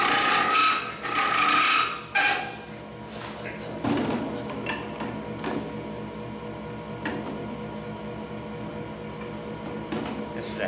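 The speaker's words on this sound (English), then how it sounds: "This is a 1/2 inch spindle gouge." A half-inch spindle gouge cuts a wooden goblet on a lathe with loud rasping chatter in short bursts, then a lower, steadier scraping hum with occasional ticks and knocks.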